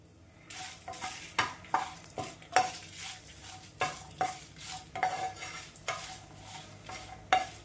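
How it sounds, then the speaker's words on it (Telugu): Seven chopped red chillies fry in a pan, with a rhythmic series of scraping stirs and spatula knocks over a continuous sizzle, close and fairly quiet, no talking. "ఇప్పుడు మిరపకాయలు ఒక ఏడు దాకా తీసుకొని ముక్కలుగా కట్ చేసుకున్నాను ఈ రెండు కూడా మంచిగా వేపుకుందాం"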